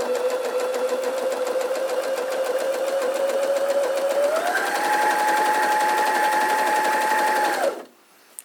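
A Janome MS 5027 sewing machine runs a blind hem stitch, a steady close mechanical whir that rises in pitch partway through, holds, then stops abruptly near the end.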